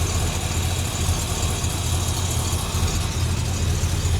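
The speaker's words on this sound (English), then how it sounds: "So the car's running a little bit better now." An old Datsun car engine idles steadily and close by, a constant low rumble with a slight rough vibration and no voices.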